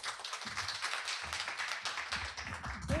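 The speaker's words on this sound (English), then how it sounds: "Please give her a round of applause." Close, busy applause from a conference audience welcoming a speaker, many hands clapping densely and fairly loudly throughout the short stretch.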